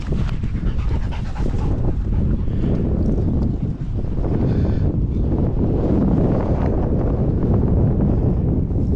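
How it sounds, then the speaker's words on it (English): Strong wind on a hilltop buffets the microphone in continuous gusty rumbles, with no voices, a rough blustery roar throughout. "that's a windy top"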